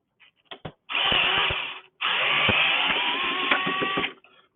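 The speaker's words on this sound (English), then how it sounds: "I'm using the power tools because" A power tool, likely an impact driver or drill, runs close by in two sustained whirring bursts of about a second each, backing out bolts from a two-stroke engine's case during a teardown, with short clicks between.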